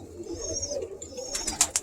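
A Birmingham Roller hen in a breeding loft gives soft, low cooing, with sharper higher calls and a few brief clicks near the end.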